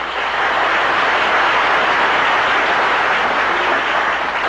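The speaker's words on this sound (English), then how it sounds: "those who do, please applaud again." Studio audience at the Jack Benny TV show clapping together, a dense, even wash of applause that holds steady and loud for several seconds without any voices.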